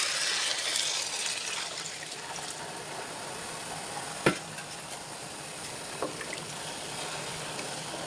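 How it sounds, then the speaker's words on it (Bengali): Hot water poured into rice frying in a pan, making a steady hissing rush with a sudden sharp splash partway through and a few lighter knocks afterward, heard close with no talking. "পানিটা এখন দিয়ে দিব"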